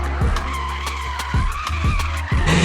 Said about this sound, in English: You can even drift on an electric car.